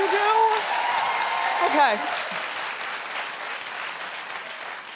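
A studio audience at a daytime talk show claps steadily for the full stretch, loud at first and easing slightly, while the host's voice and a brief reply carry over the top.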